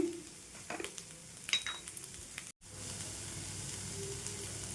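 Sweet corn masala chaat being mixed with cumin powder, coriander powder, salt and masala, giving soft, close scraping and stirring rustles with a few brief clicks and a short gap partway through.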